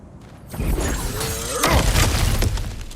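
Objects shatter and crash as they are smashed apart in God of War Ragnarök, with a loud breaking impact followed by scattering debris and rumbling, close and forceful.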